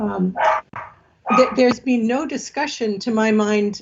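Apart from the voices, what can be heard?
dog barking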